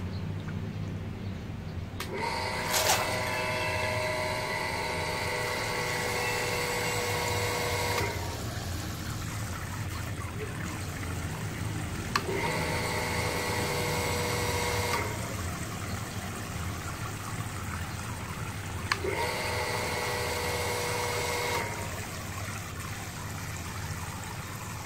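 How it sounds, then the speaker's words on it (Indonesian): A water pump feeding a tank runs in three bursts, each giving a steady tonal mechanical hum over a constant background rush of flowing water, with no voices. "Sekarang pompa saya nyalakan."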